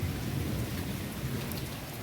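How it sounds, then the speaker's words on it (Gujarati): Continuous heavy rain pours outside a house by a newly built road in Bagasara on the third straight day of rain, a dense, even roar of drops hitting surfaces close by. "તો હવે તમને વરસાદ બતાવું પાછો."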